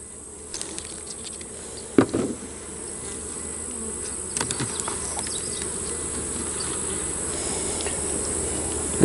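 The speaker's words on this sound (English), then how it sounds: "All the bees are concentrated right here on these 3 or 4 frames right in the middle." Honey bees hum in a dense, steady drone over frames in the middle of a hive during fall splits, close and continuous, with a few knocks from handling the frames.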